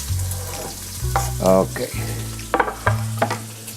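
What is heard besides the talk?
ingredients sizzling and stirred in pot for asparagus risotto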